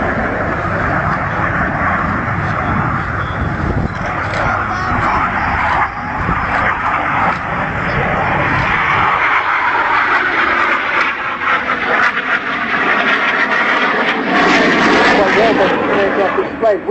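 A Yak-130 jet trainer carrying a full weapons load flies a display at RIAT 2012, its broad, sustained roar swelling and fading while a commentator talks over the loudspeakers.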